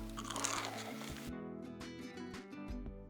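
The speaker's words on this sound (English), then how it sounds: "Crumb itself isn't overly crunchy, but it is crunchy enough." Someone bites into a crumbed plant-based mock chicken Kiev from Greens & Goodness, giving a short, close crunch near the start over a steady tonal background, then quieter chewing.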